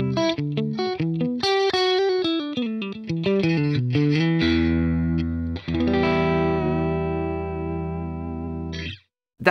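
A clean electric guitar tone runs through a Neural DSP Quad Cortex with compression and a high cut. Quick picked arpeggio notes lead into a sustained ringing chord that cuts off abruptly near the end.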